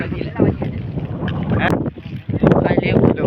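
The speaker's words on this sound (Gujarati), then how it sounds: "વાયરો બહુ ચાલુ છે" Gusty wind roars and buffets the microphone, rising and falling, while people talk over it.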